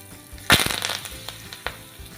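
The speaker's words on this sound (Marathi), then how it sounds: "आता गरमागरम घालायचं आहे आपल्याला तडका" Hot tempering of mustard seeds, cumin, sesame seeds, asafoetida and curry leaves poured into a guava chutney, bursting into a loud close crackling sizzle that flares up sharply, then settles into scattered pops and spits.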